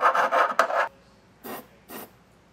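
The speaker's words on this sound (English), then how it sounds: "we're gonna come back through with a file, clean up the edges a bit" Hand file rasping along the drilled metal edges of a 2022 Toyota Camry's underbody frame during a Curt trailer hitch install: four quick close strokes in a steady rhythm, a pause, then two more separate strokes.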